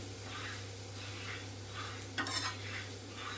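A spoon scrapes and stirs cucumber fry in a pan in soft, regular strokes, with a faint sizzle beneath and one brief brighter clink of metal near the end. The sound is quiet and close, with no voices.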